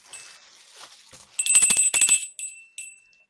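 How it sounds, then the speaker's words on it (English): A hand bell rung indoors in a sequence of bright, ringing strikes, with clustered metallic rings followed by a few shorter trailing dings, loud and close, after a quieter stretch. "is that you with that fucking bell?"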